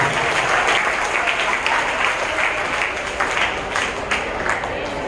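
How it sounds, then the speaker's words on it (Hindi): Steady, dense applause from an audience at a school Children's Day event honouring students, sustained and fairly even for the whole stretch with no voices standing out. "एक बार सभी विद्यार्थियों के लिए आप जोरदार तालियां हो जाएंगे।"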